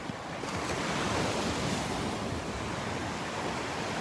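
Gulf surf breaking on the beach at Delnor-Wiggins on a calm morning, a steady broadband wash of waves mixed with wind rumble, loud and continuous with no distinct individual breaks and no voices.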